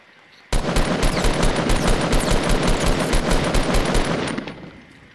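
Rapid automatic gunfire in a video game, a sustained burst of sharp, loud, evenly spaced shots lasting about four seconds before cutting off.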